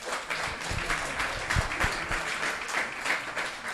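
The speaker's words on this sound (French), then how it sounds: "On l'applaudit également." Audience applause at a closing conference session in Clermont-Ferrand, a steady wash of many hands clapping from a room full of people, moderately loud and sustained.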